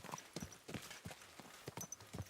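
Horse hooves clip-clop at a steady trotting rhythm in a PS5 video game, close and clear against a light ambient background, no talking.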